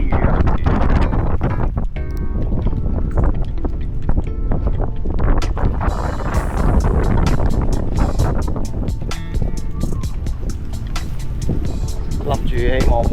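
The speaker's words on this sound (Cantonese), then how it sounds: "超級大風大浪，" A strong wind roars at sea during a rainy fishing trip off an outer island. Heavy gusts buffet the microphone continuously, with rushing water and boat noise throughout.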